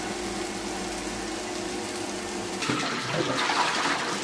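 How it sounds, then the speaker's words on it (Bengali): Rohu fish rinsed under running water, a steady close rush of water that grows brighter and splashier partway through as the flow hits the fish, loud and continuous with no talk. "মাছ ধোয়ার কাজ চলতেছে"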